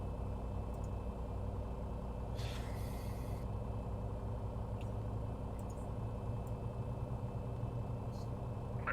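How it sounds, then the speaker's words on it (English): A pushback truck connects to an airliner in a flight simulator game: a low, steady engine idle rumbles throughout, broken by a short hissing burst early on and a few faint clicks. "push truck is just connecting now"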